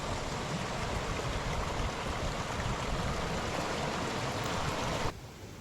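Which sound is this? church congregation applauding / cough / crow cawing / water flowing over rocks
water flowing over rocks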